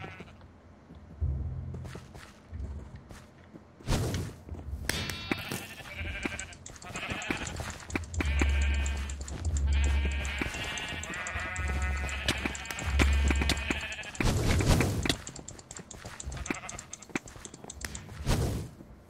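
Repeated sheep bleats from a Minecraft game, several calls spread across the stretch over low thumps and game noise, fairly close and clear.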